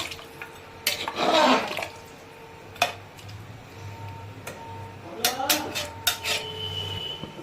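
Mutton curry with potatoes being stirred in a pot with hot water added, metal utensil clinks and scrapes against the pot alongside wet sloshing, irregular and close, with no speech.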